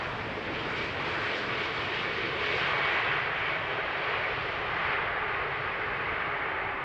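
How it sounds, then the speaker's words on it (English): An EasyJet Airbus A320neo airliner at Amsterdam Schiphol Airport gives a continuous, even roar of jet engines, steady and moderately loud throughout with no talk. "EasyJet A320neo,"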